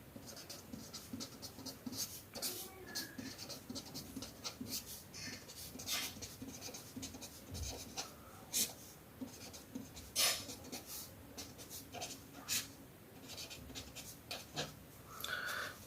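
Pen or marker scratching out a math equation by hand during a partial fractions lecture: soft, intermittent scratchy strokes and taps, close and quiet, with no talking.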